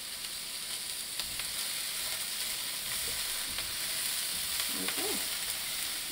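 Onions and vegetables sautéing in a pan with black pepper, a steady close sizzle running throughout while someone stirs, with a few faint scraping strokes and a brief voice near the end.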